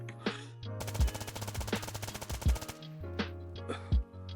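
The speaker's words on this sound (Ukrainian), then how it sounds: "Затримуємо дихання і стріляємо." Rapid automatic fire from a 9x39mm special rifle in the game DayZ (S.T.A.L.K.E.R. server) rattles in a sustained burst, framed by a few heavy single shots, loud and close over a low electronic hum.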